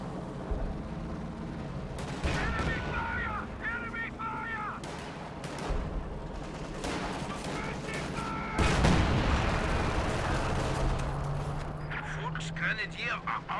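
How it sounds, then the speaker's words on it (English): Zeroing artillery barrage in Company of Heroes, a run of heavy booming impacts and rumbling blasts landing at intervals, some near and loud, with scattered small-arms crackle amid battlefield din. "Zeroing artillery dropped over here."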